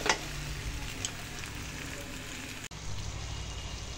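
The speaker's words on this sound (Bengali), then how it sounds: "আলুগুলোকে মশলা, মাছের মাথা সমস্ত কিছু দিয়ে এখন আবার ভালোভাবে কষিয়ে নেব।" Rohu fish head, potatoes and spices fry in a pan with a soft, steady sizzle, fairly faint and close, with occasional small crackles and a brief stir near the end.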